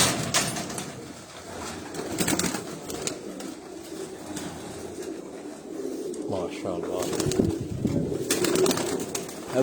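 Pigeons coo steadily from a rooftop loft in Sialkot, a continuous soft burbling that runs beneath people talking nearby throughout.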